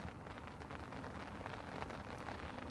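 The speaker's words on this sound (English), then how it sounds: "It's raining again, as you might be able to hear on the bivvy." Steady rain patters on a carp-fishing bivvy, a dense, even hiss of drops on the fabric that stays close and constant throughout, with no voices.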